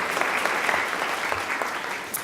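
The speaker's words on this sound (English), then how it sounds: "a little round of applause for Swanee" An audience claps in a sustained round of applause at a public panel event on modern-day slavery, a dense, even patter that holds steady for about two seconds with no talking over it.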